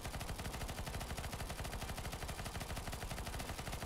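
Gunfire from a shooting video game, a dense, continuous rapid-fire clatter that stays loud and even throughout, with no talking.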